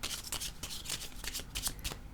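Tarot cards being shuffled by hand: a quiet, continuous crisp riffling and rubbing of card stock with rapid flicks and soft slides, close to the listener, with no talking.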